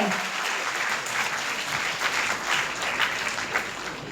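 Steady, dense applause from a seated audience at a student award ceremony in a hall, loud and continuous for about four seconds with no break.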